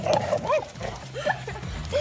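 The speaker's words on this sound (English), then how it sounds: "Watch out for the dog." A dog near icy ground and water lets out a quick run of yips and barks, close and fairly loud, with faint voices and outdoor noise around it.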